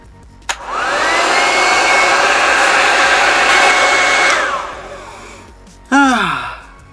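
A heated hair cap runs at its lowest power setting, a steady airy whoosh that starts with a click, holds for several seconds and then winds down, followed by a brief rising whirr as it briefly restarts.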